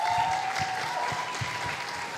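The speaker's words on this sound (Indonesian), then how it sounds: "Sekali lagi kita tepuk tangan untuk Guru Gembul." Audience applause for a guest speaker at a talk event, a short burst of dense, steady clapping from a seated crowd, fairly close and fading slightly toward the end, with no voices over it.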